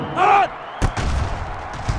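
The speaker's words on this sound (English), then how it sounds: "It's away, and it's a booming punt." A Duke punt kick in the NCAA 06 college football game against Florida State: one sharp, booming thump follows a brief voice, then crowd noise.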